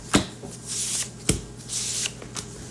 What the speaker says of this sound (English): Yeah, that was a good shuffle